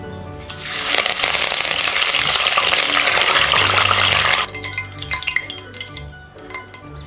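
Curry leaves dropped into hot oil for deep frying, a loud burst of crackling spatter lasting about four seconds, then settling into softer popping and bubbling with a few clinks.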